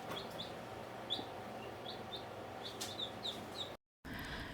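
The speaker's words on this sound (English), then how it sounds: "These are our chicks." Young farm chicks in a crowded brooder, chirping in short high peeps over a low steady hum, fairly faint with soft clucks mixed in.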